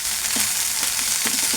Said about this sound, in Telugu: పచ్చి ఆనియన్స్ కూడా ఇలా ఫ్రై చేసుకున్నాను జస్ట్.